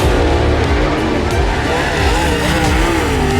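A dirt race car roars loudly around the high side of the racetrack, its engine a dense, continuous drone close by with no break in the noise.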